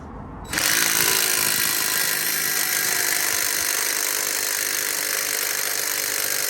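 Impact wrench on a stuck axle hub of a 2016 Nissan X-Trail, kicking in after a brief moment and then hammering loudly and continuously at close range without letting up.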